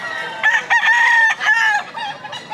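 A fighting rooster crows at a gamecock market in Lipa, Batangas, one loud, close, drawn-out call with a few short trailing notes, with no talk over it.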